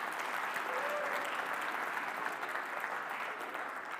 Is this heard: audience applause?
yes